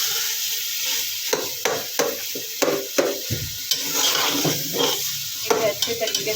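Radish bhujiya being stirred into roasted masala in a pan, steady sizzling broken by repeated scraping strokes of a spatula, close and fairly loud.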